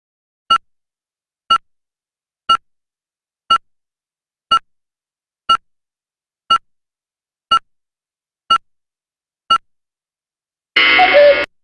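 A timer beeps ten times at an even one-per-second pace, each beep short, sharp and clear against silence, then a brief burst of a different louder, noisier tone closes the sequence.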